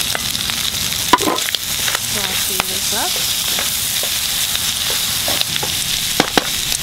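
Pork stir-fries with ginger, kaffir lime leaf and pepper for a Hmong meal, a loud, continuous sizzle with scraping and stirring clatter. A voice briefly speaks over it.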